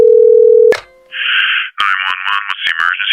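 A telephone dial tone hums steadily, then cuts off abruptly and gives way to a string of electronic keypad tones as a phone number is dialed, each beep short and close, no voices.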